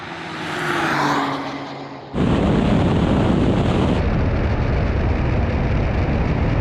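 A Nissan GT-R Nismo, Honda NSX and Porsche 911 Turbo S drag race at speed, a loud continuous roar that swells, then breaks into a steady heavy rush of engine and wind noise.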